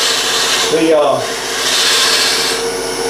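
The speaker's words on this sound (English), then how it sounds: "I'm using a round nose scraper now" A wood lathe spins a walking cane while a round nose scraper cuts its surface, giving a steady close rushing and rubbing whir with a brief tonal scrape near the middle.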